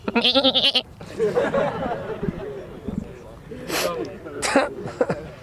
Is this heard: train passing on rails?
no